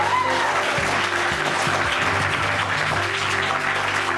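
A studio audience at a quiz show applauds steadily throughout, a dense, even patter of clapping with faint voices and murmurs mixed underneath.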